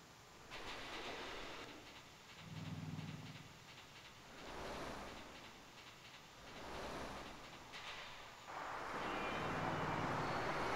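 Trains rumble and hiss in the A-Train 8 video game, with a maglev running in the distance and a bullet train passing; the rolling rail noise swells and fades in several waves, then grows steady and loud near the end.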